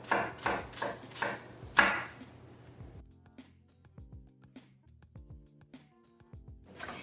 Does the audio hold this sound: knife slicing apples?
yes